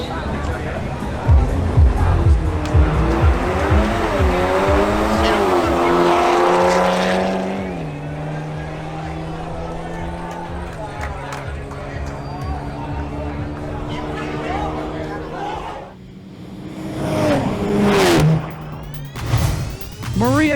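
BMW M340i xDrive and Audi S3 at a drag race, engines roaring and revving with rising and falling pitch as they launch, crowd noise and an announcer's voice over the top.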